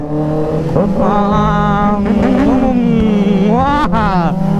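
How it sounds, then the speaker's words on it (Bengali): A Kawasaki Z900 motorcycle engine revs close by, its pitch rising and falling in several pulls with a sharp throttle blip near the end, as a voice talks over it. "চলো Z900 আওয়াজ শুনো"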